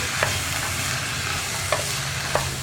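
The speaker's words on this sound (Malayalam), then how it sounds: "ഇനി നമുക്ക് ഈ കടലയും കൂടി ചേർത്ത് നന്നായിട്ട് ഇളക്കി മിക്സ് ചെയ്യാം" Chickpeas are stirred into a hot masala gravy in a pressure cooker pan for kadala curry. A close, steady sizzle carries three distinct scraping taps of the spoon.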